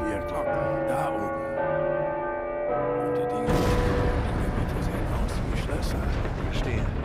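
Church bells ring from a bell tower in Uncharted: Legacy of Thieves Collection, clear sustained tones struck a few times over several seconds before a wash of rushing noise takes over.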